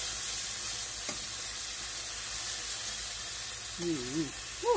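Shrimp, chicken and vegetables sizzle steadily in a hot stir-fry pan, a constant loud hiss with a brief voice near the end.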